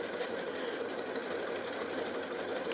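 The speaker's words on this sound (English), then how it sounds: "I'm going to start sewing." An embroidery sewing machine stitches on felt with a steady, fast mechanical whir and rapid needle knocking. It runs continuously at a constant level with no voices.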